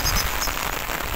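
Rain comes down outdoors in Madrid near the Real Jardín Botánico and Prado, a dense steady patter and hiss close by with no break, loud and unbroken throughout.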